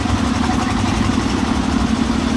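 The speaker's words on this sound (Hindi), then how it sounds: "देखिए ये इंजन चल रहा है" A construction-site engine idles steadily and close by, a dense continuous low rumble with a constant hum and no breaks or voices over it.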